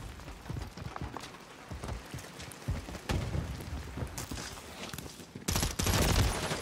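Gunfire rattles through a Call of Duty MWIII match, with scattered single shots and rapid bursts, and the heaviest sustained burst comes near the end.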